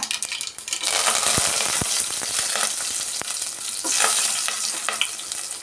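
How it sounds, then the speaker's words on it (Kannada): Mustard seeds crackle and pop in hot oil with garlic and curry leaves, a steady close sizzle with scattered sharp spatters. "ಸಾಸಿವೆನ ಸ್ವಲ್ಪ ಸಿಡಿಲಿ ನೋಡಿ ಸ್ವಲ್ಪ ಬೆಳ್ಳುಳ್ಳಿ ಸ್ವಲ್ಪ ಕರಿಬೇವಿನ ಸೊಪ್ಪು ಸೇರಿಸ್ಕೊತಾ ಇದ್ದೀನಿ"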